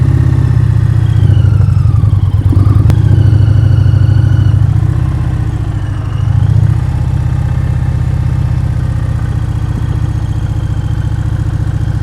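Motorcycle engine idling and pulling lightly at walking pace during slow-speed clutch-control riding practice in Florida, a loud close steady putter whose tone swells and eases with brief throttle changes.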